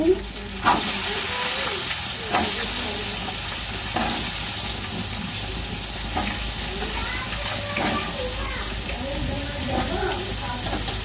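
Potatoes are tipped into a hot frying pan with a sudden burst of loud sizzling, then a continuous crackle as they fry, with several stirring scrapes along the pan spaced a couple of seconds apart.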